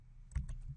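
Computer keyboard keys are typed while entering a file name, a short burst of three or four quiet clicks close to the microphone, alone with no voices.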